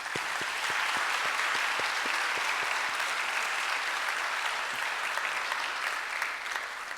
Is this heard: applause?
yes